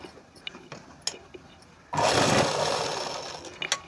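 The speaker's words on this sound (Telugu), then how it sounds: "ఇటు సైడ్ కుట్టేసాం కదండి ఇప్పుడు ఈ సైడ్ కుట్టాలి" Sewing machine stitching the lining of a Punjabi dress, a steady mechanical whir that starts partway through after quiet handling clicks and carries on to the end.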